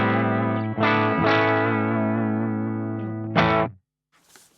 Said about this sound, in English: The amp is a 5F1 Tweed.